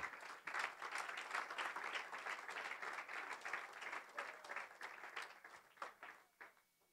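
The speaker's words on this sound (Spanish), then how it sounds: "denle un aplauso al Señor en esta hora" A church congregation applauds during a sermon: dense, continuous clapping from many hands, moderately distant and even, tapering off over the last second.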